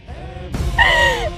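A single loud, close scream, with a rising then falling pitch, cuts sharply through a moment of tense dramatic background sound.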